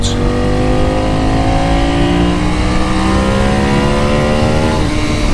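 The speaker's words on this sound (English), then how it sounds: "This is my Ducati Superbike 848" A Ducati Superbike 848 with an 849cc engine runs loudly up close, its engine note rising steadily as it revs or accelerates, with a deep, rough drone underneath.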